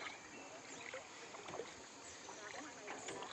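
A rowing boat moved by oar at Tràng An, Ninh Bình, with a steady close wash of water and soft splashy strokes under people chatting nearby.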